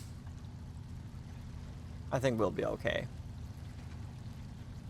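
A truck in the SnowRunner video game fords a creek under a full load, giving a steady low engine rumble mixed with rushing water throughout while someone speaks briefly in the middle.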